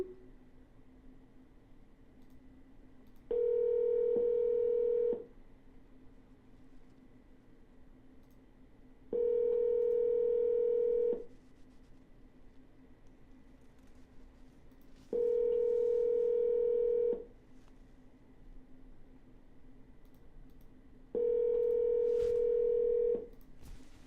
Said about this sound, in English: Gonna double dial.